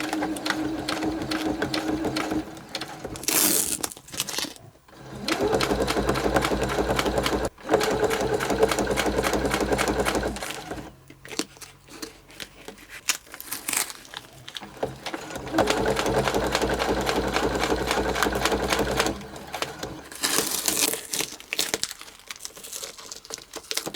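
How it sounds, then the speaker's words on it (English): Sewing machine stitching a clear plastic bag pocket, running in several long bursts of steady rapid whirring with short pauses and crinkling of plastic between them. "When you have plastic on the bottom of your presser foot, it's going to grab, so just you have to ease it along as you sew."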